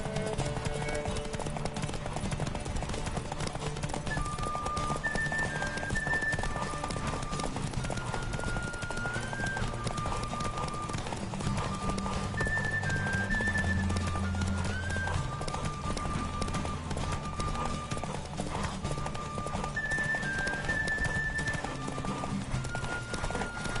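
Steady clip-clop of galloping hooves in a Witcher game horse race runs throughout, with an occasional horse whinny, set against a constant bed of game music.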